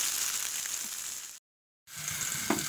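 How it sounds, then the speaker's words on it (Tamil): Vegetables and tomatoes sauté in a pan for kathamba sambar, giving a steady, close sizzle that cuts out briefly before resuming, with a soft clink near the end. "சேர்த்து ஒன்றா வதக்கி சாம்பாரில் கொட்டிட வேண்டியது"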